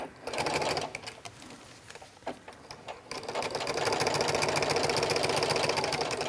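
A sewing machine with a walking foot stitches a lined wetbag at slow to medium speed, a steady mechanical whir that starts and stops at first and then runs continuously and loudly.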